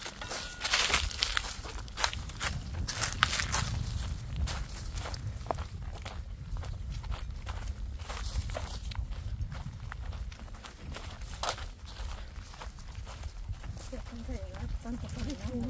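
Footsteps of a group walking outdoors in strong sun, a steady crunching shuffle over rough ground, close and continuous throughout, with people talking and calling out over the steps.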